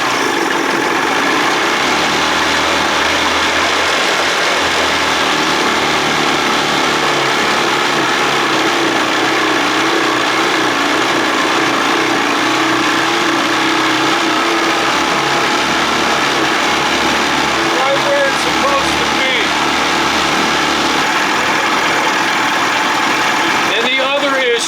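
A 1979 Evinrude 55 hp outboard engine runs steadily after starting, its loud, even idle drone carrying throughout beside a voice.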